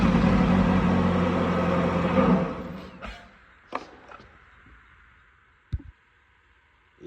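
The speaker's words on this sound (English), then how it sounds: "is to have someone crank the engine while watching the meter" Engine on a 2009 Chevy Malibu 2.4L cranking: a loud, steady churning starter drone for about three seconds, then it cuts out, leaving only a few sharp clicks and knocks.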